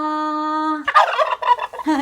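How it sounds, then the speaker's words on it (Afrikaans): A male farm turkey gobbles loudly and close up, a rapid warbling rattle of calls lasting about a second. A sustained tonal note comes before it. "Ons noem 'n pappa kalkoen 'n haan."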